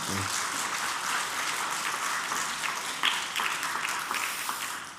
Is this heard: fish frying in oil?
no